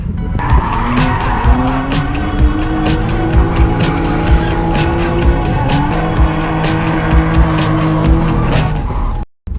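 A drift car at a Kačerga track training session revs hard while its tires squeal continuously, the engine note rising and shifting over a steady loud skid that runs almost to the end.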